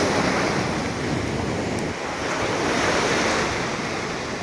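Ocean surf at La Jolla beach: a heavy, continuous roar of breaking waves with steady wash and wind noise, loud and close throughout, no voices.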